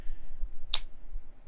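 A single sharp finger snap or hand clap on a podcast call, one crisp close click over a low background hum.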